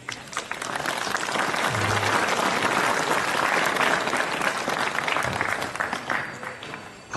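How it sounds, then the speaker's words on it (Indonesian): An audience claps together at a school event, steady full applause that swells, holds and fades slightly toward the end. "mari kita aplaus untuk kita semua."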